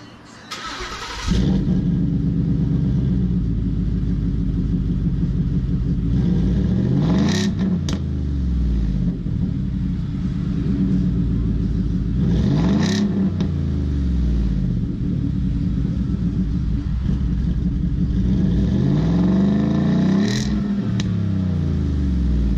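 A car fitted with a very loud aftermarket exhaust cranks and fires up, then settles into a deep, rumbling idle with a few sharp throttle blips, sounding close and loud throughout with no talking.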